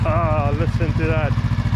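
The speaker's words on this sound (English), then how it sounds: "First start up on his new bike." A brand-new Honda Rebel CMX 1100 motorcycle engine runs with a steady, low rumble close by, while people talk excitedly over it throughout.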